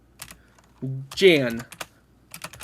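Keys tap on a computer keyboard while a budget is entered, giving a few light, close clicks in short bursts around a brief spoken word.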